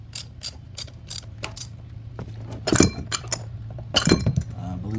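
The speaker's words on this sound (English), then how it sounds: "Take your wrench." A wrench ratchets as it tightens a new oil filter on a Kia Optima, giving a series of quick metallic clicks and clinks with a couple of louder clanks.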